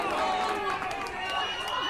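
Cheering from the crowd and both dugouts at a men's softball championship game, a loud continuous roar of voices with shouts rising and falling, heard close and alone without commentary.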